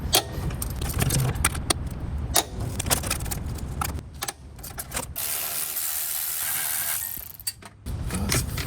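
Ratchet wrench loosening the 12 mm throttle body bolts on a Honda CR-V engine, rapid metallic clicking in quick bursts with pauses and tool clinks, close and loud, no speech.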